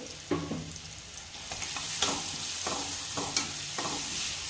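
Dal khichdi with turmeric and salt being mixed and sautéed in a pan, with a stirring spoon scraping in regular close strokes over a continuous sizzle, and no talking.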